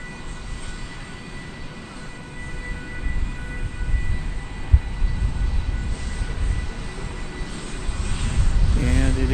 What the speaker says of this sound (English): Here comes that 767 that we saw earlier.